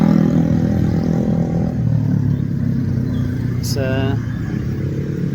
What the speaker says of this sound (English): hopefully you can hear me above the incessant traffic noise